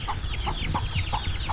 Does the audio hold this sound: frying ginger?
no